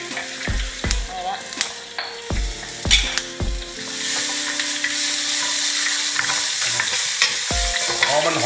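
Salt being stir-fried in oil in a pan, with a utensil scraping and knocking against the metal in irregular clacks while a soft sizzle builds and then runs steadily, close up, with no talking.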